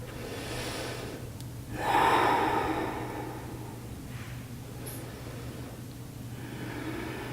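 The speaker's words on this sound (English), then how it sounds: "Taking one more breath." Audible breathing during a yoga session for the backs of the legs: one deeper inhale swells near the start, then softer, quieter breaths follow over a low steady background hum.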